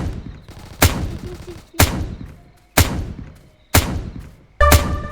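Gunfire from the Fortzone battle royale video game: five sharp, loud shots spaced roughly a second apart, each ending in a decaying tail, with a faint electronic hum between them.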